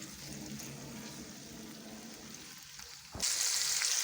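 Tomatoes fry in a pan for a daal palak dish, with a soft, steady sizzle that suddenly swells into a loud, bright hiss partway through.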